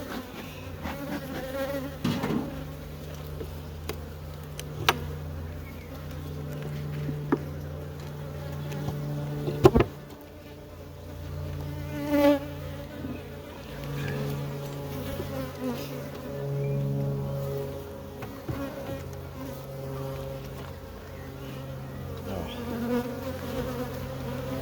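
Honeybees buzz around an open hive super during an inspection, a dense, steady drone close by with individual bees whining past, and occasional knocks of hive equipment.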